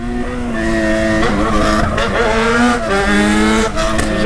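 A Yamaha XJ6 motorcycle revs hard and loudly, its engine note rising and falling in repeated sweeping pulls with a sharp, echoing tone among parked cars.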